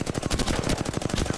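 Rapid automatic gunfire in the battle royale game Apex Legends, a fast, evenly spaced burst of loud shots that continues without a break.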